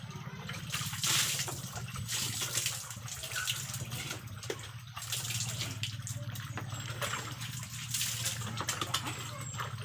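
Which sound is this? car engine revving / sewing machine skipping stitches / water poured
water poured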